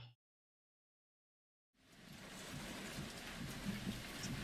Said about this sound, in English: Very strong winds. You hear it.